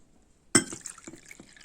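Water poured from a cup onto amba powder lands in a sudden splash, followed by a few small trickles and drips nearby, with no talking.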